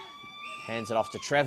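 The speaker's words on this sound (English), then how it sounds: "that's the siren for the third quarter" The quarter-time siren at a country Australian football league match sounds as a steady, sustained tone, partly buried under a commentator's lively voice.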